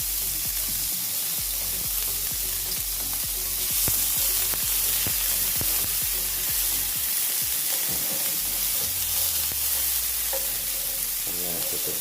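Onion sizzling steadily in about two tablespoons of olive oil in a pan, with frequent sharp clicks of a utensil stirring and scraping, close and continuous.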